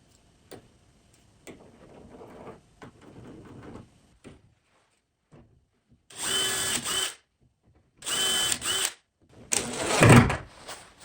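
A power drill drives screws to fit hinges onto a wooden door frame for a homemade phone box, with light tapping and handling sounds first, then three loud bursts of whirring drilling separated by pauses.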